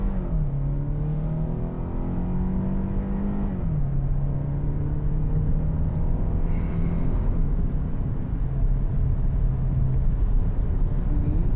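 A 2023 Kia Sorento AWD in sport mode cruising on a highway, its engine a steady, loud drone held in one gear, with a slight rise and dip in pitch beneath road and wind rumble.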